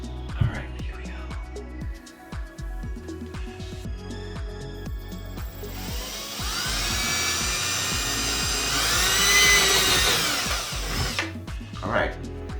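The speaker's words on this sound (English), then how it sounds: "I'm gonna drill just into the drywall." A power drill whirs steadily, rising to a loud, high-pitched grinding whine as it bores into a drywall ceiling, then cuts off abruptly near the end.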